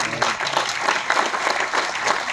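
An audience at a lifestyle business event in Ludhiana, Punjab, breaks into dense, continuous applause, many hands clapping together at steady volume throughout, with no voices standing out.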